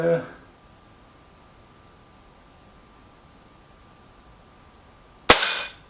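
A single sharp crack of a Milbro Guardian air rifle shot near the end, loud and abrupt after a long near-silent stretch with a faint steady hum, a brief earlier noise burst opening it.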